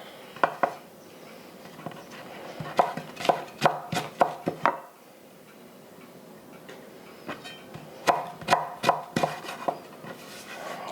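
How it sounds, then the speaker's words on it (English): Sharp knife chops tap on a cutting board in quick rhythmic runs as food is sliced thinly, with a clear pause midway before another run of close, crisp cuts. "And slice it thinly as possible, stack them up."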